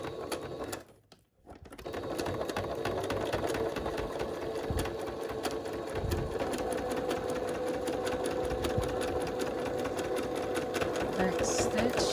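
Domestic sewing machine stitching fabric for a homemade filtered face mask, running steadily in one long continuous burst after a brief pause near the start, close and fairly loud, with a voice talking over the motor.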